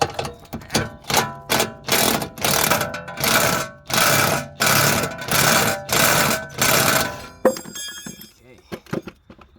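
An impact wrench with a short 14mm impact socket works on an axle bolt of an Infiniti G37, loud buzzing bursts repeating in a steady rhythm before giving way to lighter metallic rattles.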